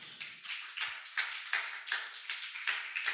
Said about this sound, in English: Can we get a big round of applause for Foundation We Are?